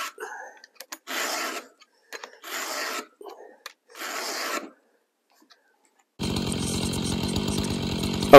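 A chainsaw chain is sharpened by hand with a Stihl 2-in-1 file sharpener, giving rhythmic rasping strokes, four close filing passes separated by short pauses, followed by a loud running chainsaw engine.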